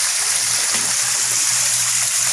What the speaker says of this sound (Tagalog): Bubomba lang tayo dito ng tubig.